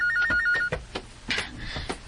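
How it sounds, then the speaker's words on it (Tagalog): A telephone rings in a living room during a radio drama, giving repeated bell-like bursts that sound clear and fairly close, with no talk over them. "Oh, may bagting ang telepono sa sala."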